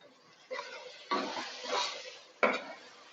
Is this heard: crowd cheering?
no